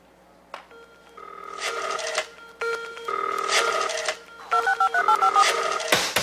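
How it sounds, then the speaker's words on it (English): Telephone keypad tones dial a voicemail password, several bursts of crisp dual-pitch beeps in quick rhythmic runs separated by short pauses, loud and close, with no talking. "Please dial your password and press pound."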